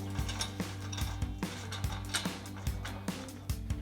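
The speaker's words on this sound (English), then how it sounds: "With our 24mm socket and our 21mm wrench, we're gonna tighten this down." A socket wrench ratchets quickly and evenly while a 24mm socket tightens a suspension bolt during a lift kit install on a Ram 1500 pickup, the loud, close metallic clicks alone over a steady hum.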